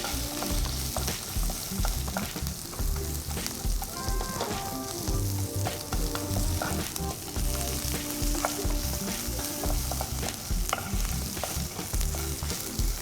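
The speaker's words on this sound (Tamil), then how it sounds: "கீறி வச்சிருக்கிற பச்சை மிளகாய், வெங்காயம் இதோடு சேர்ந்து வதக்கணும்." Slit green chillies and onion sauté in a pan for Chettinad mutton leg soup, a dense, continuous sizzle and frying crackle with stirring scrapes throughout, close and steady, with no voices.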